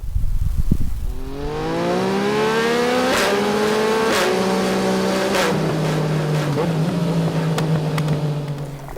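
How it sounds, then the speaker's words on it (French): A 2022 GasGas SM700 supermoto motorcycle starts up and revs, its engine rising and falling through several throttle blips, loud and close, with a sharp burst of mechanical noise at the very start. "voici mon essai du supermotard GazGaz SM700 2022"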